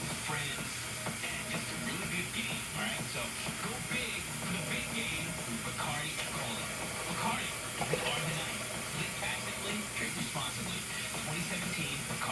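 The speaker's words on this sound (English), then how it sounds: "I'm putting a whole bunch of water in here" Water is poured into a pot of turkey chili with beans, a steady, even rush and sizzle lasting around twelve seconds, with someone talking over it.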